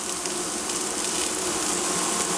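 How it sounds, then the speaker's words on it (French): Chopped onions sizzle steadily in olive oil in a frying pan, a dense, even hiss that carries on without a break and without anyone speaking. "Dans ma poêle, je mets donc l'huile d'olive. Je la répartis donc comme il faut. Ensuite, j'y dépose donc les oignons émincés."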